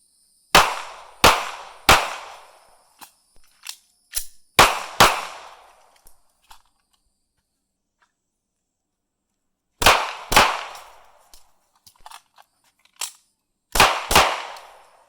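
Pistol shots crack out close and loud in quick clusters of sharp reports, each with a short ringing decay, separated by quiet pauses and followed by fainter echoes.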